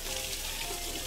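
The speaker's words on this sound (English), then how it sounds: "wanna put your chicken in and sear it like 2 minutes on each side till golden brown" Chicken sears in very hot grease in a pan, giving a brief, steady, close hiss and crackle with no talking.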